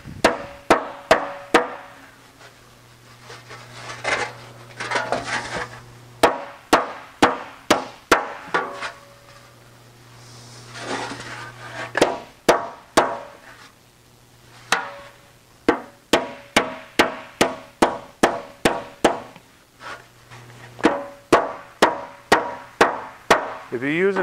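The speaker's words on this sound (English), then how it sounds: "If you're using a sharp end of the hammer, you got to be careful because you can ask the metal to do too much." Hammer blows shaping a metal body panel for a Porsche 550 rear section, rapid bursts of sharp close metallic strikes in rhythmic runs separated by short pauses, with a steady low hum beneath.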